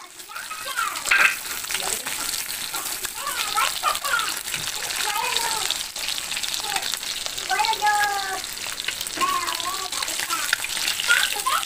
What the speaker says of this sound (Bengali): তো প্রথমে আমি কিন্তু মাছগুলো ভেজে নিচ্ছি, আর এই মাছগুলো কিন্তু ভাজা খেতেও খুব ভালো লাগে।